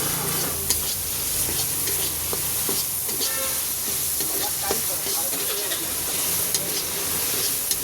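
Capsicum being fried with spices in a pan, a steady close sizzle with stirring and scraping clatter running throughout, no talk.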